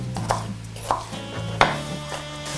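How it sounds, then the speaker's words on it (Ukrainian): A knife chops an onion into small cubes on a board in a few separate sharp strikes, roughly evenly spaced, over a steady background hum. "Цибулю будемо різати е, дрібними кубиками"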